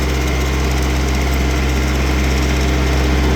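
A Kubota Aste A15 compact tractor climbs a hill through pine forest, its small engine droning loud, steady and close with a constant buzzing vibration.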